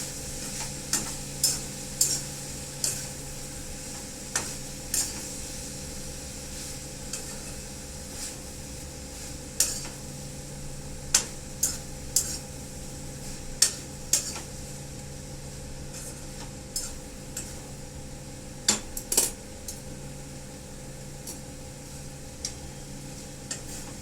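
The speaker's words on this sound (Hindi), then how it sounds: "उसको बार बार चलाना है, बार बार चलाना है" Eggplant and potato sabzi frying in a pan with little oil, stirred over and over, giving repeated close scraping ticks over a steady low sizzle, with no talking.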